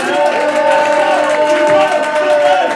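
A church crowd cheers and claps in praise, a loud continuous roar of voices with whoops and shouts layered over applause, sustained from start to finish.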